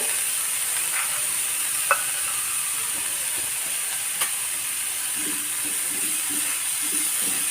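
Paneer is stirred into masala on a dosa pan over a steady sizzling hiss, with a few soft scrapes and taps of a utensil close by.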